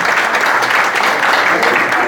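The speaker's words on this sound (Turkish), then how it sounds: "çok güçlü bir alkış rica ediyorum onların önünden" A festival crowd applauds steadily and loudly throughout, a dense wash of clapping with no gaps.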